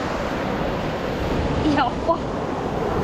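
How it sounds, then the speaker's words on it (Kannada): Ocean waves wash steadily onto Majali beach as a broad, continuous surf roar, with wind buffeting the microphone and a brief voice exclaiming over it. "ಅಲೆಗಳು ನೋಡಿ ಸ್ನೇಹಿತರೆ"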